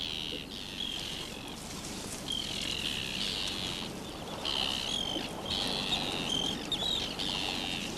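Seabirds call in breeding season, a dense chorus of high chirps and cries rising and falling, moderately loud over a steady wind-like background, with no talk.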